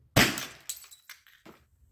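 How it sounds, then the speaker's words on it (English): A cracked glass vessel bursts apart during a hydrogen gas launch of a Nerf rocket: one sharp shattering crash, followed by several smaller tinkling fragments settling over the next second, heard alone. "the second one just popped it apart"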